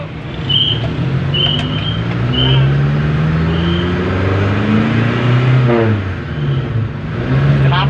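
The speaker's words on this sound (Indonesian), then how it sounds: "Knalpotnya enak ya ini ya, knalpotnya enak sekali." A Mitsubishi Colt 120 runs on the road with a loud, steady engine and exhaust drone that rises and falls as it accelerates and shifts. Someone talks over the engine noise.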